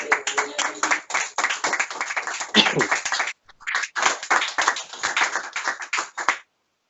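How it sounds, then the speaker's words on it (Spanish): A church congregation claps together in sustained, dense applause, loud and close, with a brief pause midway before the clapping resumes and then stops abruptly. "Un aplauso al Señor"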